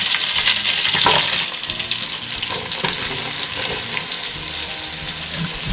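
Sliced onions frying in melted butter in a pan for biryani, a steady close crackling sizzle with occasional stirring scrapes, loud and continuous without talk.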